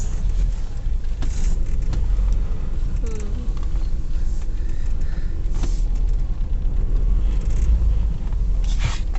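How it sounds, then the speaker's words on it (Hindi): A car reversing produces a steady, loud, low engine rumble with road and mechanical noise, plus a few brief clicks and knocks along the way. "अभी हम गाड़ी बैक कर रहे हैं"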